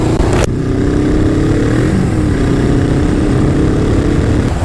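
Suzuki GS 500 motorcycle engine running steadily and loud up close, a continuous droning rumble with a slight rise in pitch midway, heard alone without voices.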